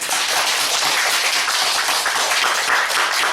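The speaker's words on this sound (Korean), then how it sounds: "박수 한번 주세요" Sustained applause from a church congregation, dense and steady clapping at even loudness from start to finish with no pauses.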